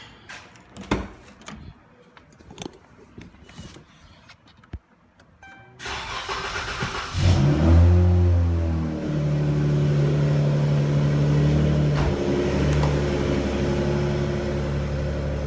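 A Dodge Charger 3.6L V6, its fuel pump just replaced, cranks briefly after some clicks and knocks, catches and revs up loudly, then settles into a steady close idle.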